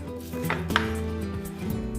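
A knife chops through boiled pempek lenjer, a Palembang mackerel fish cake, on a board, with a couple of soft knocks over a kitchen background.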